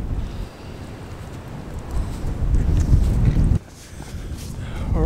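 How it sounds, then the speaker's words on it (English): Wind gusting across an open ridge on Ysgyryd Fawr in the Black Mountains of Wales, buffeting the microphone in loud rumbling bursts that build, cut off sharply, then return more faintly. "as I thought, the wind's picking back up again"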